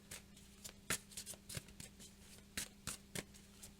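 A deck of tarot cards is shuffled by hand close up, giving a series of quick riffling bursts and soft slaps at an uneven rhythm against a quiet background.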